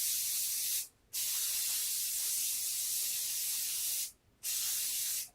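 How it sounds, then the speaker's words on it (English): Hairspray sprays onto crimped hair in long, close hissing bursts, broken by two brief pauses as the nozzle is released and pressed again, with no talking. "Lots of hairspray."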